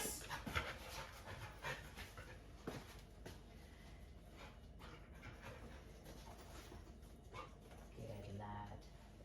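A dog pants in a kitchen in quick, soft breaths alongside a few whimpers and jingles, close by and fairly quiet, with a person speaking now and then over it.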